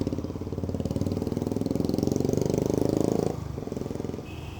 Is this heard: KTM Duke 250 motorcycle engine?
yes